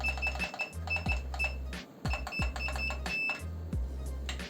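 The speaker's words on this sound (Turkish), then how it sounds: "Buradan bir tuşla buzzer'ı çalıştırıyorum." A remote-control buzzer sounds in repeated short bursts, a low droning tone switching on and off with clicks between pulses.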